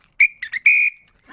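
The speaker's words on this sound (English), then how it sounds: "The little red whistle making an appearance early in the show" A small red whistle gives three quick shrill toots, the last held longest, loud and close with no talk over it.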